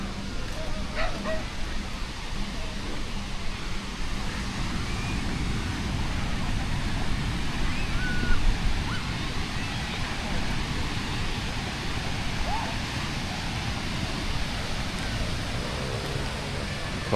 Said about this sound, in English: Look at those beautiful waves.